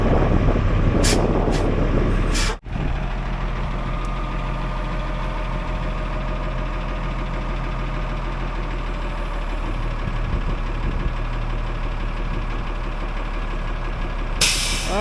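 A heavy truck engine runs steadily and loud at close range while the rig is steered and manoeuvred, with a sharp air-brake-like burst near the start and a brief hiss at the end.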